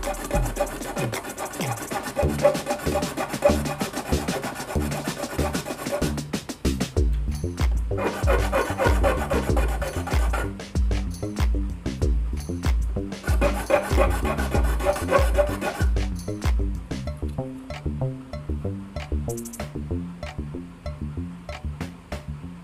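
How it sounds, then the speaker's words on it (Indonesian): A hand file rasps steadily against the wooden fretboard of a guitar, cutting a notch so a fret can seat; the close, continuous scraping strokes run loud and dense for the whole stretch with no talking. "Kalau susah, kalian bisa coba pakai kikir kayak gini."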